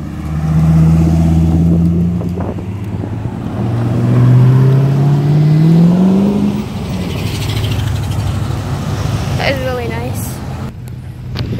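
A Lamborghini Gallardo drives into a Newport Beach car meet, its engine loud and close with rising revs amid crowd chatter and people talking nearby.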